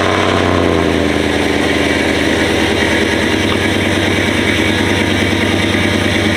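Engine of a lifted Chevrolet truck on 12-inch chrome lift and 30x16 wheels, a loud, steady, throaty rumble throughout with a pulsing low idle-like beat, close by and with no talking.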